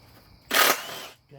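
Milwaukee M12 impact gun driving out the tank screws on a 2016 KYMCO K-Pipe, a single short burst of whirring rattle lasting under a second, close and fairly loud, then quiet.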